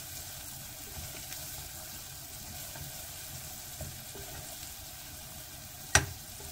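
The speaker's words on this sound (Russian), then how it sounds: "Потом туда вливаем вино." Wine is poured into a pan of onions frying until golden, giving a steady, close hiss of sizzling with a brief sharp clink near the end.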